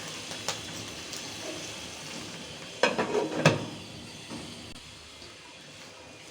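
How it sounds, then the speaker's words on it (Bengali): Chalta pickle cooks in oil with date palm jaggery and sizzles faintly in the background. A brief cluster of stirring scrapes comes in the middle, and a few lighter taps are scattered around it. The sounds are quiet and there is no talk. "একটু নাড়িয়ে চাড়িয়ে দিব,"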